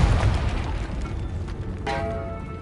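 Confringo blasting spell going off in Hogwarts Legacy: a loud, low booming burst at the start that rumbles and decays, followed by a fainter magical shimmer with tonal ringing near the end.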